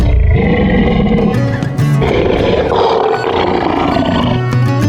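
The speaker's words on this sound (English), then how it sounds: "He was near enough to hear the wolves" Loud gray wolf sound effects in a fantasy audio play: deep, rough growls and snarling roars in continuous overlapping bursts, close and dominating, with no speech.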